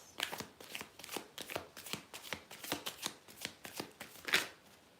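Tarot cards are riffled and shuffled by hand in a rapid run of soft, crisp flutters, quiet and close, with no talking.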